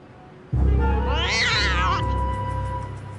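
A cat lets out one long, drawn-out meow close by, rising and wavering before trailing off, with a low rumble beneath it.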